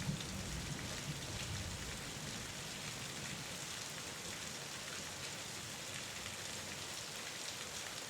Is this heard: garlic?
no